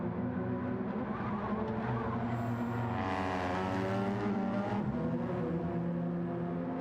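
Race cars in the Gran Turismo 7 racing game, engines droning steadily as several cars pass close with rising and falling revs and a brief tire squeal, loud and continuous with no talk.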